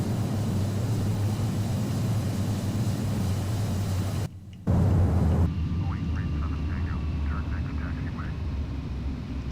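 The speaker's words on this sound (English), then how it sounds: "A little off center, but I'd have to say that was a pretty good landing." An airliner landing and rolling out in Flight Simulator X, steady engine and wind roar with a brief break partway through, then a lighter hum as the plane slows, with someone talking over it.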